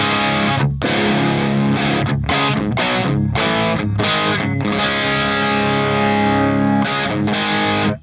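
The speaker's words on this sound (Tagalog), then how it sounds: "Kasi ito, Tube Screamer lang siya, pero grabe, napaka-powerful din ang drive niya." An electric guitar played through a MoVall Crazy Screamer overdrive pedal on its warm setting gives thick, saturated strummed chords with brief stops between them, loud and close with no talking.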